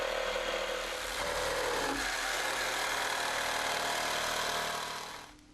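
A power saw cutting protruding wooden deck planks to length, a loud steady continuous buzzing whine that holds for about five seconds before winding down.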